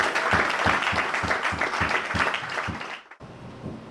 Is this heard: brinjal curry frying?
no